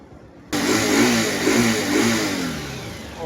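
A freshly rebuilt Rusi 180 motorcycle engine suddenly roars to life and revs up and down several times, loud and close, settling into a rumbling idle.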